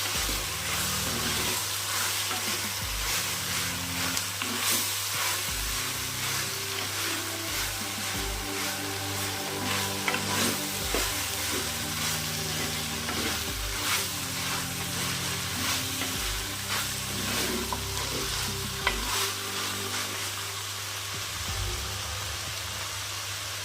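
Ridge gourd sizzles and fries steadily in a pan, with repeated scraping stir strokes and clinks recurring throughout at a close, even level; no one speaks.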